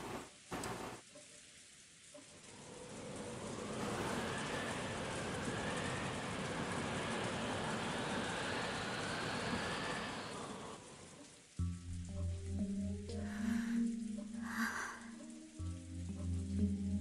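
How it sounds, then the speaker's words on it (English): Steady rain and wind ambience in a dark video game scene, a dense continuous wash of falling rain for about eleven seconds before giving way to quieter game sounds with sustained tones. "listening only to the wind and the rain"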